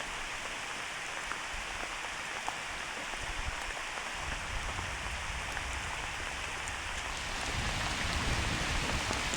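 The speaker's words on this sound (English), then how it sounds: "And now the rain." Steady rain hisses down on surfaces during a thunderstorm in Algonquin Park, growing heavier toward the end, with a low rumble beneath.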